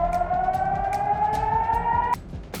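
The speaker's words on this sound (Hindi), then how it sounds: "सायरनों की आवाज" A single wailing siren tone slowly rises in pitch, then cuts off abruptly, over a dull background hum, with faint sharp clicks scattered throughout.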